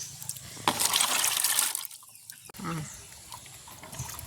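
Peanuts are washed in a pot of water outdoors in a village garden. Water splashes and sloshes briefly, loud and close, then settles to quieter movement with faint sounds around it.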